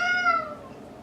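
A cat gives one short, tonal meow nearby, clear and moderately loud, trailing off quickly into quiet room noise.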